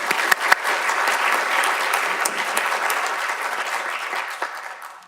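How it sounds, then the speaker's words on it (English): Audience applause at a freedom of information panel discussion, a dense steady wash of many hands clapping that holds for several seconds and tapers off at the end, with no talk over it. "let's all give him a round of applause again"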